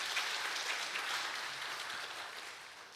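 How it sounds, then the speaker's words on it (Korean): Church congregation applauding during a Sunday school awards presentation at a Sunday morning service, a steady, dense wash of clapping that fills the whole stretch and fades slightly toward the end. "박수 부탁드립니다."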